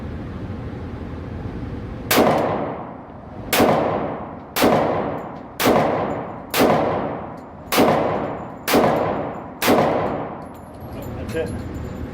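Eight sharp gunshots from a lightweight-frame Kimber Super Carry Ultra Plus 1911 .45 pistol, fired outdoors at a slow, fairly even pace, each loud crack followed by a short decaying echo.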